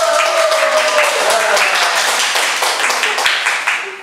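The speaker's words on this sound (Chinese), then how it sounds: "各位掌声一个" Audience applause at a live stage comedy and magic performance in Macau: dense, sustained clapping from a crowd that carries through the whole stretch and tapers slightly toward the end.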